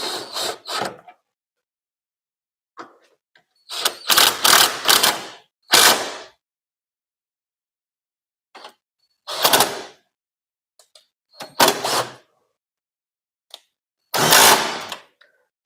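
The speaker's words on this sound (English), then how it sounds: "Just applying pressure as I'm tightening him." A ratchet with a 14 socket on an extension tightens a sway bar bushing bolt during suspension reassembly on a Toyota MR2, giving short bursts of rapid clicking separated by pauses, close and clear with no talking.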